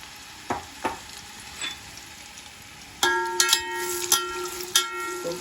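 Sliced onions frying in about two cups of oil in a large pot for paya curry, a low sizzle with occasional stirring knocks that swells into louder, brighter crackling partway through.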